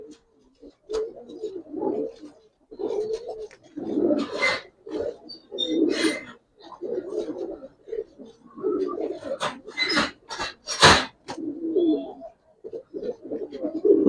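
Giribaz and coloured pigeons coo repeatedly in soft, close, rhythmic bursts, with a few sharper flutters or rustles between calls.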